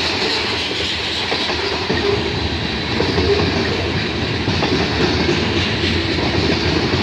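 A long freight train with rail cars rolls past at Bronte Street, a steady loud rumble with rhythmic clickety-clack of wheels over rail joints throughout.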